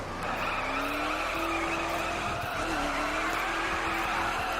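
Chevrolet Silverado 1500 LT pickup sliding sideways in The Crew racing game, a sustained tire squeal over a steady engine drone, loud and continuous with no talking.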